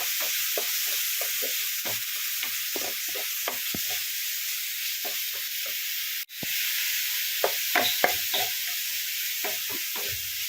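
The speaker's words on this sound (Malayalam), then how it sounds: "ഇതിൻ്റെ പച്ചമുളക് ഒന്ന് മാറുന്നതുവരെ നമുക്ക് തന്നെ വഴറ്റണം." Green chillies sautéing with crushed onion in a pan, a continuous soft hiss beneath frequent spoon scrapes and taps against the pan, one brief dropout partway through, no voices.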